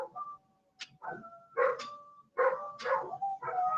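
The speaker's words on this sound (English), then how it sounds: "my dogs howl because the siren actually hurts their ears" Several dogs howl and yip together in short, wavering bursts, close and fairly loud, with brief pauses between the rising and falling cries.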